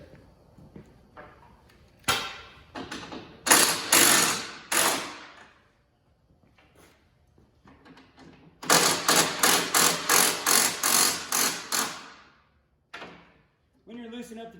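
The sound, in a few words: loosening track tension nuts on Yeti snow bike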